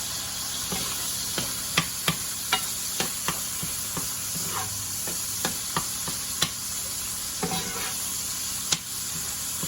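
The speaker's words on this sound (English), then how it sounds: "In the pan I just put a little bit of olive oil to coat the bottom of the pan." Spaghetti squash sizzling in olive oil in a pan, a constant frying hiss broken by repeated light clicks and taps of a stirring utensil, close, with no talking.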